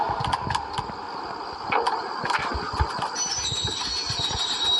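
A train rolls past in a video game, with a steady mechanical rumble and rhythmic clicking of wheels on track. A high whining tone rises toward the end, all at moderate volume without speech.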